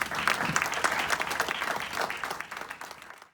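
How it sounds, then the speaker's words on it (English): Audience applause for a discussion panel, a dense patter of many hands clapping at moderate volume, fairly steady before tapering off toward the end. "Let's give our panel a round of applause."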